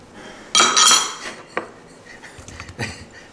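Chopped tomato, onion and cheese dropped into a bowl: a loud clattering burst of knocks against the bowl, then a handful of lighter scattered taps and clinks, close and with no talking.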